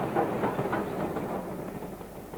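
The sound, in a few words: heritage railway train running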